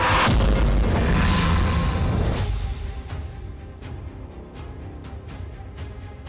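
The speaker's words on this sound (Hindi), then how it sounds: "अगले ही पल इसमें जोर का धमाका हो गया" An LPG tanker blows up at a toll plaza in Kaushambi, a loud, sustained roaring boom that fades after a couple of seconds into a rumbling tail broken by a few sharp pops and cracks.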